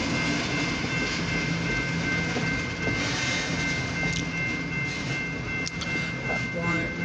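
Long OC&T freight train with rusty hopper cars and tankers rolling past near Titusville, Pennsylvania, a steady continuous rumble with wheel clatter and a faint tonal hum, while people talk quietly over it.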